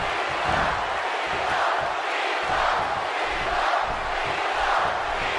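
Sold-out wrestling arena crowd in WWE 2K16 roaring and cheering in swelling waves, a broad steady wash of noise with low thumps underneath.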